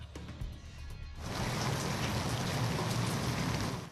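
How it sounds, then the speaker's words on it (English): Steady rain patters on a house rooftop covered by a blue tarp, starting lighter and swelling into a dense, even hiss of drops that continues without a break, with no voices. "The patter of rain on the rooftop is never relaxing at the Fava house."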